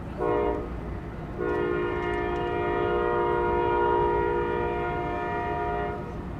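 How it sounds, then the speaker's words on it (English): A freight train horn blows loud and sustained, a short blast then a long one, over the rumble of the passing train near Dallas Love Field. "another lonely freight train"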